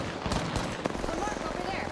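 Rapid gunfire in the battle royale shooter Apex Legends, a quick burst of sharp shots over a dense rumbling mix, with a voice speaking partly over it.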